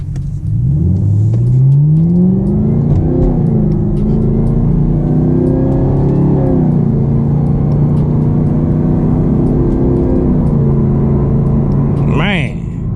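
A Camaro ZL1 1LE with a 10-speed automatic accelerates hard, its loud engine climbing in pitch and then dropping smoothly at each gear change. A voice is briefly heard over the steady roar, which cuts off abruptly at the end.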